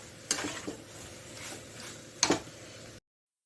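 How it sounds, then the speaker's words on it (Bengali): Spices and soybean chunks frying in a pan, with a steady close sizzle and two sharper scraping stirs of a utensil against the metal. "আজকে আমি মশলাটা ভেজে সোয়াবিন দিয়ে করছি"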